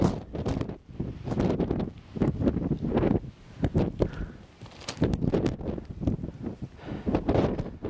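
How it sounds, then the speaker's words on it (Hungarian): Strong wind buffeting a microphone on a mountain trail on Evia, Greece, in loud irregular gusts and rumbling blasts that rise and fall throughout. "Igazából nem lenne vele gond, hogyha nem lenne ennyire erős a szél."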